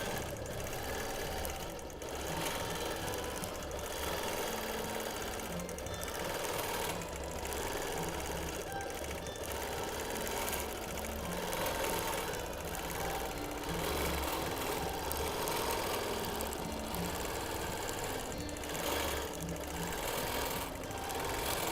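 Stella quilting machine stitching fabric in free-motion quilting, a continuous rapid mechanical chatter of the needle with steady rhythmic pulses, fairly close and even throughout, with no talking.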